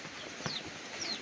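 A wet chicken clucks during a heavy storm downpour, two short clucks standing out over a steady hiss of rain.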